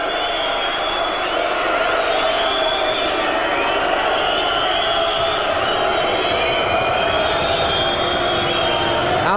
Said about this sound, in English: The crowd don't like it at all.